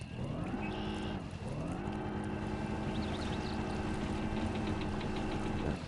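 In the video game MudRunner, a truck engine idles with a steady low throb and droning hum, loud and close, running continuously with no voices.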